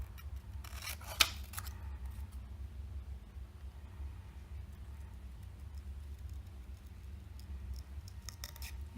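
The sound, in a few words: scissors cutting paper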